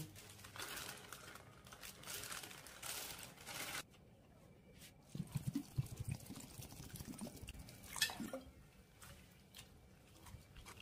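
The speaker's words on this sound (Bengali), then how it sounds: "প্রথমেই আমি এই ভুট্টার দানাগুলোকে ভালোভাবে একটুখানি ধুয়ে নেব।" Sweet corn kernels are rinsed in water, with soft splashing, trickling and crinkling handling noises close by at low volume, a quieter stretch midway and a small clatter near the end.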